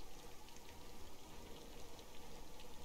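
Steady rain falls across the scene in the survival game Raft, a dense, even patter of drops hissing continuously throughout, moderately loud with no talking over it.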